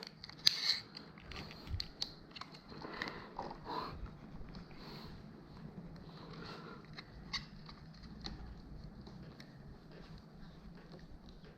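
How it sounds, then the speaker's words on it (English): Scissors or snips cut through cheap rubber bike handlebar grips during a headed-grip fitting, giving several close, irregular snips and crunches amid faint handling noise. "These handles are so cheap, just cut them off."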